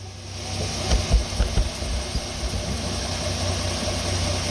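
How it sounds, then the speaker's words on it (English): A 2008 Pontiac Torrent engine idles steadily at close range, with a low, even rumble and a few brief bumps early on. "There you go, you can hear it running."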